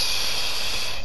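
A Fortnite video game character snores loudly, a single breathy, hissing snort held steadily close up with no talk.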